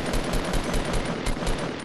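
Rapid automatic gunfire from the video game Fortnite, with bursts of shots repeating steadily over a couple of seconds, loud and close, with no talk over it.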